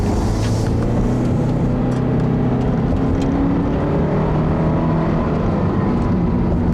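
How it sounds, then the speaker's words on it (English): A 2014 Subaru Impreza with a CVT accelerates, its engine holding a steady loud drone with gradually rising tones and heavy road noise, heard from inside the car without talk. "let me get into another acceleration run because it sure is an interesting transmission"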